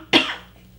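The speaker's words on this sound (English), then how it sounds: "The dry cough comes out of nowhere." A single short dry cough, sharp and close, fading quickly into quiet room tone with no talking.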